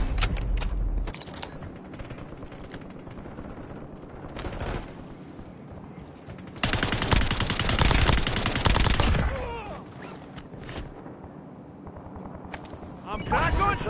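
Call of Duty gunfire crackles in bursts through the round, with a dense, loud stretch of rapid shots in the middle and lighter scattered shots around it, mixed with game ambience and occasional talk.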